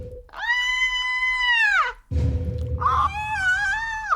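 A person vocally imitates screams while playing a video game: two long, high, wavering wails separated by a short gap with a low rumble, loud and close.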